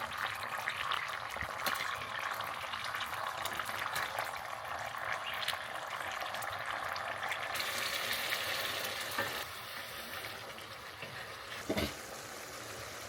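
Minced beef simmering in tomato sauce for a meat pie, a continuous soft sizzle and bubbling from the pan with occasional clinks and stirring scrapes, steady and close.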